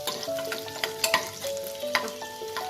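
Chopped garlic frying in a hot pan, crackling and sizzling up close while a spoon stirs it with short scraping knocks and clinks.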